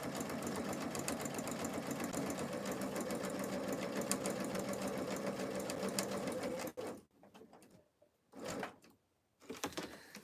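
A sewing machine runs steadily and close for about seven seconds while stitching slowly around a fabric corner, then stops, with a few short bursts of stitching after the pause.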